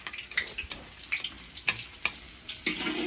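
Garlic frying in a pan gives a low steady sizzle, broken by sharp clicks and clatters of a utensil scraping and tapping the pan at close range, with no talking.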